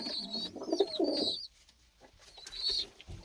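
Tumbler pigeons coo in soft, low bursts for about a second and a half, then fall quiet before a fainter coo returns near the end, with light chirps above.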